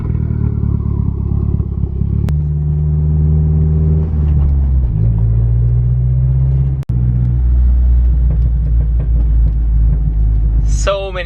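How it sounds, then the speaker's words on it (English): Car engine cold-starting, a Beamer versus a Mazdaspeed fitted with a CorkSport setup, with a loud steady low idle rumble that shifts pitch partway through and two sharp cracks near 2 and 7 seconds. "Beamer cold start versus speed cold start."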